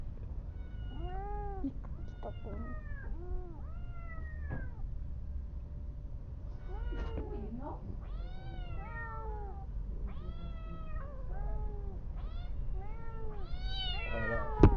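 Aggressive cat meowing repeatedly, a run of loud, rising and falling yowls close by, some stretching into caterwauls, over a steady low background hum.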